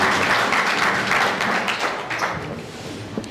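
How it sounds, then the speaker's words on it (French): An audience at a public-speaking event in Dakar breaks into steady applause, a thick, loud wash of many clapping hands that slowly eases in volume. "s'il vous plaît, applaudissez-le pour ça et encouragez-le."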